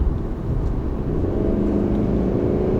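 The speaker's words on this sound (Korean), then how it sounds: "가속 한번 해볼게요" A current Mercedes-Benz car accelerates from inside the cabin with noticeable turbo lag. A low, steady engine rumble and whir builds gradually without sharp revs.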